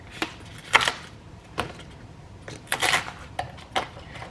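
Knife chopping spring onion from a home garden on a board, a series of sharp irregular taps, close and moderately loud, with short pauses between strokes and no talking.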